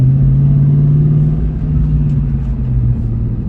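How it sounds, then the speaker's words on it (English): A 2003 Ford Mustang engine runs in a loud, steady low rumble heard up close, holding an even drone throughout with a slight dip midway. "it runs great. Oh man, it's the greatest running car ever"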